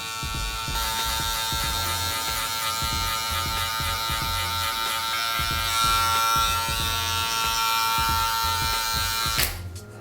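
Electric hair clippers with a 1 guard, lever open, buzzing steadily while cutting a low taper fade, with a close, constant hum and rhythmic pulses from repeated strokes through the hair.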